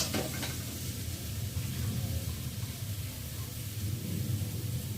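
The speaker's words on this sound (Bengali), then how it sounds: "সয়াবিনটাকে মশলার সাথে কষিয়ে নিয়ে যাচ্ছে।" Soybean chunks fry with spices in a pan for a vegetarian soybean curry with papaya and potato, giving a steady, close, even sizzle with a faint clatter at the start and no talk.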